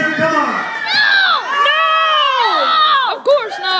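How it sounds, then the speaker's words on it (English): A wrestling event crowd cheers and shouts, a mix of high excited voices and whoops rising and falling continuously over several seconds, loud and close with children's shrieks standing out. "Can I get some cheering?"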